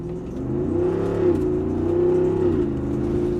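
Jeep Wrangler 392 Final Edition V8 with its exhaust baffles open, revving in off-road plus mode: a loud, steady engine roar that rises around the one-second mark, holds, and then eases back down near the end, with no voices.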